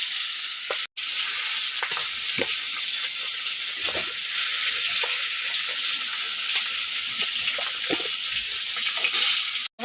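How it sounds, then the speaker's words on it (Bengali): Fish heads sizzle loudly in hot oil in a pan, a dense continuous frying hiss close by with occasional pops and spatters, broken by a brief gap near the start, with no voices. "এখন আমি তেলের উপর মাছের মাথাগুলোকে ভেজে নেবো"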